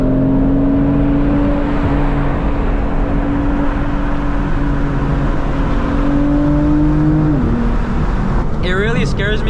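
A BMW M4 F82 turbo engine pulls hard on a night drive, a loud, steady drone with a rising tone that shifts near the end, heard from inside the car.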